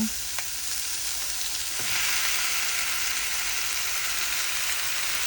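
Squid dropped into a hot pan for adobong pusit sets off a steady, loud sizzle that swells after a brief clatter and keeps hissing evenly with no voices.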